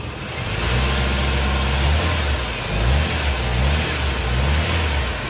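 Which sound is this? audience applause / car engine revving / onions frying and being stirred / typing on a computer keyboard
car engine revving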